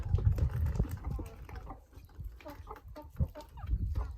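Laying hens on a small farm clucking steadily, several birds close by with overlapping, busy calls and no talking.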